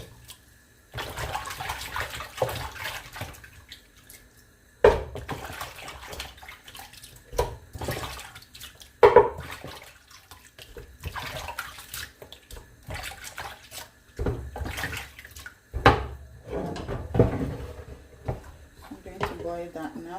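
Water running and splashing as a raw turkey is rinsed and washed again after soaking, with intermittent gushes and handling noises near the microphone, broken by pauses and mixed with spoken talk.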